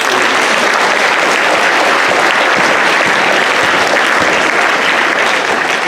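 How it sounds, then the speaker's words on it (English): A large crowd at a junior high school award ceremony applauds loudly and continuously, a thick, even wash of clapping hands with no break for the whole stretch. "Give her a round of applause."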